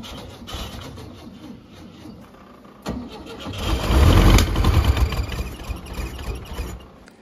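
VW Bus engine cranking on a clogged carburetor, the starter churning and the engine nearly catching and sputtering louder before dying away without running, heard up close.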